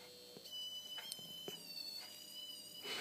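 A fluorescent light tube on a battery power supply gives a steady high-pitched electrical buzz with a thin whine, holding constant with a few faint clicks throughout.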